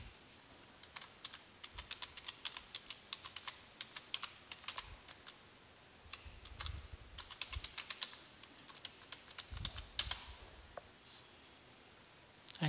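Someone types a password on a computer keyboard, soft key clicks coming in quick bursts separated by short pauses, fairly quiet and close.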